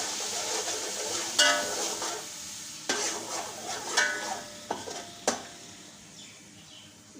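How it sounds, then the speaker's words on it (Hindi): Tomatoes and spices sautéing in a pan after ginger paste, a soft steady sizzle with a few sharp clinks and scrapes of a stirring spoon against the pan, no voices. "इसके बाद हम इसमें टमाटर ऐड करेंगे, ये मसाले ऐड करेंगे इसके अंदर। इसको 2 से 4-5 मिनट भूनेंगे इसको।"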